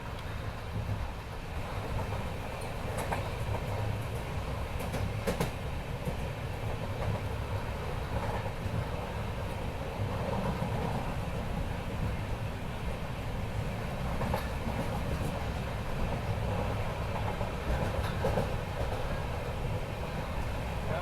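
On board a train on the coastal Karnataka line from Mangaluru to Goa in heavy rain: a continuous, even rumble of carriages rolling along the track, with faint intermittent rattles and no voices.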